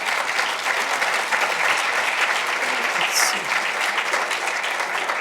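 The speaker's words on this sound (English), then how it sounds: "can you give everyone a round of applause," Audience applauding panel speakers at an AI discussion event, a dense, steady wash of clapping hands that holds at full strength for about five seconds with no pauses.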